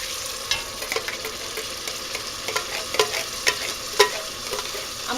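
Sauce poured into a hot frying pan over golden-tipped browned food, sizzling steadily while a utensil scrapes and stirs with irregular clicks and knocks, close and moderately loud, with no talking.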